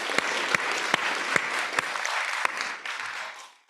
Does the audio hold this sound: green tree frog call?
no